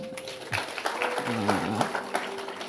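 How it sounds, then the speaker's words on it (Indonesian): Church congregation giving a short round of applause, scattered and fairly faint clapping with a voice speaking briefly over it. "Yang bersukacita berikan tepuk tangan."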